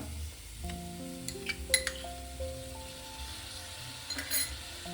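Spice paste with grated coconut is stir-fried in a pan for papaya kaliya, giving a faint sizzle with a couple of sharp spatula clinks, all beneath steady background music.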